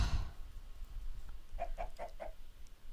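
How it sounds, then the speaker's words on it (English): Chickens in the Minecraft modpack Agrarian Skies let out four quick, evenly spaced clucks in a row, clear and close, after a quiet stretch of faint background noise. "I guess I could kill one of these chickens."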